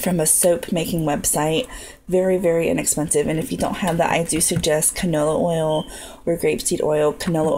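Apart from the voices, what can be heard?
None of the usual background noises is heard.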